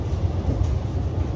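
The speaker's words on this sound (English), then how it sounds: "This train terminates here." A train pulls into Bradford Forster Square station in West Yorkshire with a steady, close, low rumble and no voices.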